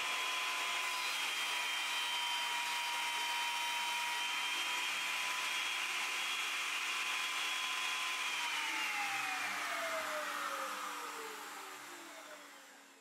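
A thickness planer runs through wood, a loud continuous whine with a steady cutting hiss that holds for several seconds, then the tone drops and fades as the board clears the machine.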